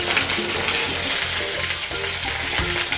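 Mustard seeds and curry leaves fry in about two spoonfuls of oil in a kadai, making a dense, steady, close sizzle with scattered pops and crackles that runs without pause and without any voices.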